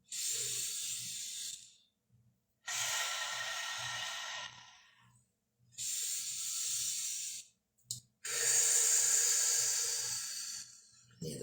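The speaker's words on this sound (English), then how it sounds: "Exhaling on the way down." Long breathy exhales during slow arm circles in a stretching workout, four drawn-out breaths in a steady rhythm with pauses between them, close and soft, with no talk.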